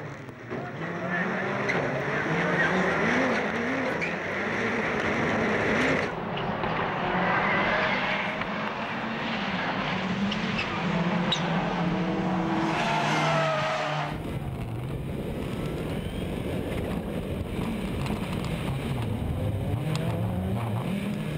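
Rallycross race cars compete in the premier final at Faleyras, France, in 2011. Engines roar loud and continuous, with revving, tire noise and shifting pitch as cars pass, and a commentator talks over the racing.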